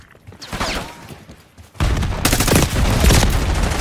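Gunfire in the shooter Black Ops 6, scattered shots at first, then a sudden heavy sustained barrage of rapid loud bursts that keeps going.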